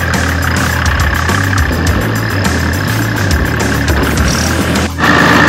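An off-road buggy powered by a Gelandewagen engine idles loudly and close by with a steady rumble, the revs shifting slightly and a short dip near the end before resuming.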